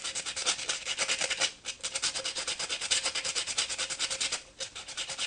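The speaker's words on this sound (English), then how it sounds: "take the can and sand the bottom edge lightly, the last inch." Sandpaper roughening the bottom edge of a metal spray can, a steady rhythmic back-and-forth rasping scrub with quick even strokes and two brief pauses, close and fairly loud.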